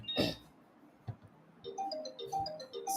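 A phone alarm rings indoors with a brief knock at the start, then a repeating series of bright electronic melody tones, fairly quiet and steady with no talk over it.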